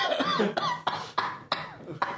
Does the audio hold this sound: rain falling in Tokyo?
no